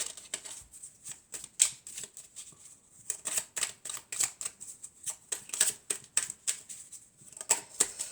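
Tarot cards shuffled by hand in a rapid run of crisp riffling clicks and flutters, close and fairly loud, with no talk over them.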